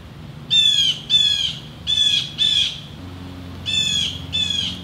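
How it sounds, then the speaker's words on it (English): A bird squawks outdoors in three pairs of harsh, loud calls, each pair repeated quickly, over a low background hum. "I wish that bird would shut up."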